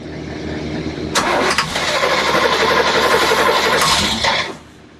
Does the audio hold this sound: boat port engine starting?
yes